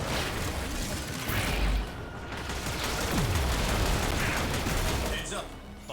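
Sustained assault rifle fire in the video game Warframe, dense and loud, mixed with battle effects and booms, continuing almost without pause.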